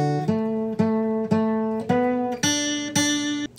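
An acoustic guitar plucks a jingle as a short melody of six clear, ringing notes in a steady rhythm. The last two notes jump higher, and it plays alone, close and moderately loud.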